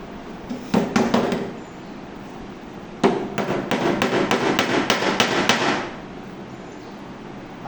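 Screw being fitted into a sewing machine table: a few sharp knocks, then a dense run of rapid, close taps and clicks lasting a couple of seconds, with quiet pauses between the bursts.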